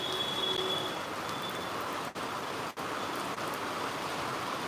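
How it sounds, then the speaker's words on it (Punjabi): Monsoon rain falls steadily in Punjab as an even, dense hiss of drops on surfaces, with no breaks apart from two tiny dips. "ਦੱਸਿਓ ਕਮੈਂਟ ਕਰਕੇ ਕਿੱਥੇ ਕਿੱਥੇ ਹੋਰ ਮੀਂਹ ਪੈ ਰਿਹਾ ਸਾਡੇ ਹੋ ਗਿਆ ਸਟਾਰਟ"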